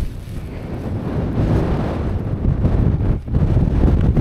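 Wind at about 20 mph roars across a fell-top winter wild camp in the Lake District, a loud continuous low rumble buffeting the microphone, close and unbroken, with no voices.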